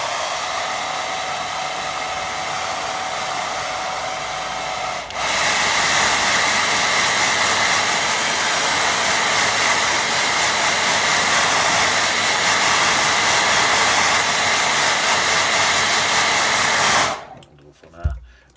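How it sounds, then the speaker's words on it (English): A hair dryer blows across a wet watercolour painting of grazing sheep, giving a loud, steady whooshing roar close by that shifts to a higher setting partway through and then cuts off near the end. "give that a little tiny blast and dry it."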